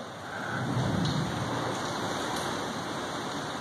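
Steady heavy rain pours down with a gusty rush of wind during a severe storm in Florida, a constant dense hiss close by.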